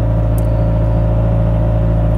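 A passing garbage truck's low engine rumble drones steadily nearby, with a faint higher whir on top, heard without any talking.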